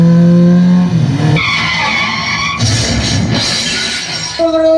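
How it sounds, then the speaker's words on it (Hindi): Car tires skid and screech loudly in a staged road accident, the drawn-out squeal building into a crashing impact with noisy debris, all close and alone with no voices. "उनकी गाड़ी का संतुलन बिगड़ जाने की वजह से एक्सीडेंट हो जाता है"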